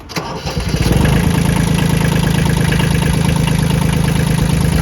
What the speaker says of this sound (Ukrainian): Давайте його заведемо, послухаємо, як працює двигун.